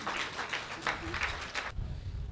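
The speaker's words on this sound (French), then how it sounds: "Sous vos applaudissements, Doudou." Audience applause at a golf tribute ceremony, a dense patter of clapping for under two seconds that stops abruptly, leaving low rumbling room noise.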